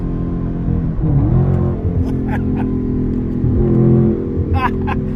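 Cars on a highway speed up as if racing: engine tones rise and fall in sweeps over a constant road roar, with a voice speaking briefly over it.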